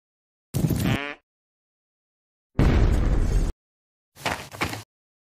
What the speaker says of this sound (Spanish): Explosión de pedos.